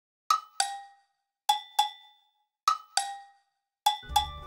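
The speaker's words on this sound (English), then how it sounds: "As for the Agogos, they'll be used specifically for these sounds." Agogo bells in a Paper Mario Shiver Mountain cover strike in quick pairs of high and low metallic tones, four pairs with brief pauses between, crisp and isolated with short ringing decays.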